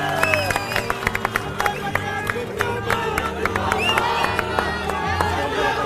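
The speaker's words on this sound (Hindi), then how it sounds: "संजय सिंह की जोरदार तालियों से स्वागत करिए" A crowd of supporters at an Aam Aadmi Party satyagraha at Jantar Mantar in Delhi cheers and claps to welcome Sanjay Singh; loud, dense outdoor noise with shouts, scattered claps and a constant low rumble.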